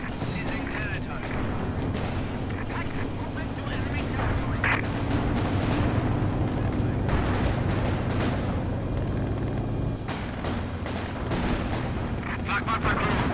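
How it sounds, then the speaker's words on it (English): Machine gun fire from a squad in the Company of Heroes 2 World War II strategy game, mixed into dense, continuous battle noise with explosions and rumbling vehicles, while a voice talks over it throughout. "Machine gun squad is firing on us."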